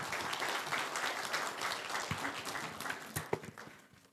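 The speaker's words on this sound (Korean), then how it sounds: "우리 목사님께 또 감사의 박수로 맞이하도록 하겠습니다" A church congregation applauding at a New Year blessing prayer meeting in Seoul, a faint, distant patter of many hands clapping continuously.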